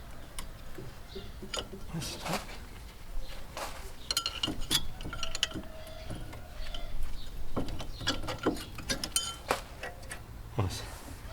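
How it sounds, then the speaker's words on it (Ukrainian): Car brake pads are pried out with a screwdriver, producing scattered metallic clicks, clinks and scrapes at close range with irregular timing over a low background. "Беремо викруткою і знімаємо наші колодки."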